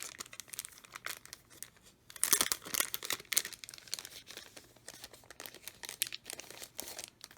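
Vellum sticker sheets from a small crafty haul are handled at close range, giving a stream of soft, irregular crinkling and rustling with a few sharper crackles.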